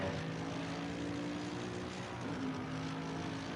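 A Mercedes AMG GT3 engine in Assetto Corsa Competizione at Zolder drones steadily and loud throughout, with a sustained tonal hum that dips and shifts pitch slightly near the end as the throttle is picked up again.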